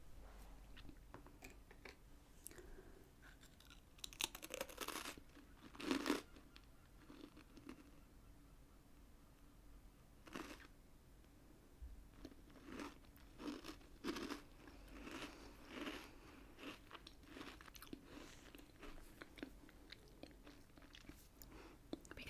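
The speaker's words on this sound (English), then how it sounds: "as soon as it goes in your mouth, start crunching it up" A small biscuit being bitten and crunched up in the mouth, heard as close, quiet chewing with a few sharper crunchy bites, especially one loud burst early, and no talking.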